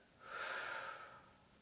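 A person takes one soft, airy inhale through the nose during a breathing exercise, swelling and fading over about a second, faint and quiet.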